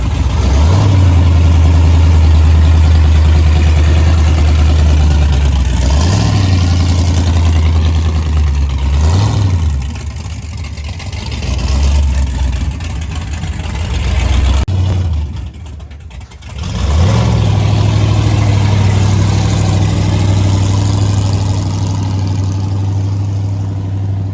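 A custom car's engine runs and idles steadily for about 24 seconds, with a deep low rumble and several brief revs that rise and settle back, plus a short dip near the middle, with no talking.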